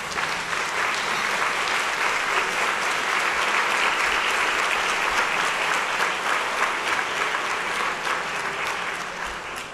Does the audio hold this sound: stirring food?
no